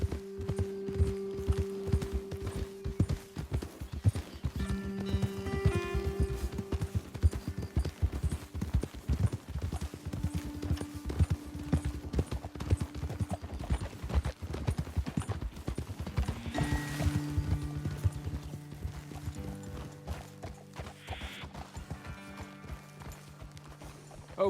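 Horse hooves clip-clop steadily over ground in the Red Dead Redemption 2 western game, a continuous rhythmic trot from several horses close by, with soft musical tones and occasional louder knocks in the background.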